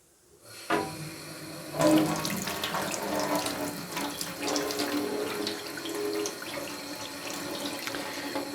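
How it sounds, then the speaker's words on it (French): Running tap water pours steadily to rinse a wound, a continuous close splashing stream that starts abruptly and carries on without talk. "nous allons nettoyer la plaie avec de l'eau courante"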